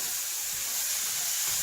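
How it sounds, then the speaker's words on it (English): Drained canned chickpeas sizzle in a curry pan as a steady bright hiss for under two seconds, close and even, with no voices. "Sizzling away there."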